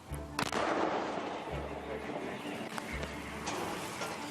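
A heavy, booming blast from a Dana self-propelled howitzer firing, with a long rumbling tail, followed by echoing low thuds, heard outdoors and fairly loud.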